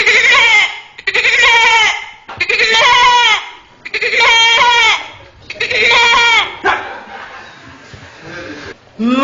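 A person imitates a Hausa goat, giving a series of loud, close, wavering bleats in about five long bursts, followed by a quieter, trailing sound like laughter.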